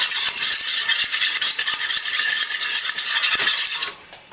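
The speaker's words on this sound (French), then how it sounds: "Ce que je vais faire, c'est mélanger." A spoon stirs syrup mixed with cornstarch in a pan for a fruit tart, giving a bright, hissing, rapidly repeating scrape with faint clicks, close and steady until it stops abruptly near the end.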